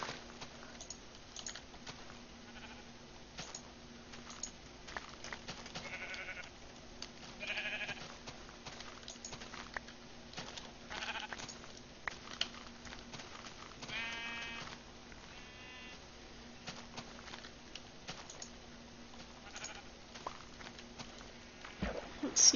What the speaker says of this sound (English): Holy crap, there's so many sheep